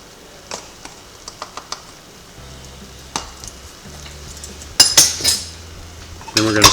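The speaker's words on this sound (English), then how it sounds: "Then we're going to stir it up." Pectin being stirred into a mint jelly mixture in a pot, a spoon clinking and scraping in sharp taps, then louder bursts of clattering against the pot near the end.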